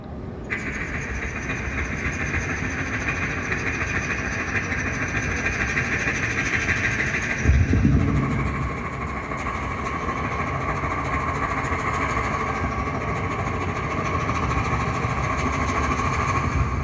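A human voice imitates a train engine rumbling at night, a continuous droning chug with a steady low throb and a brief louder surge midway, sustained alone without talk.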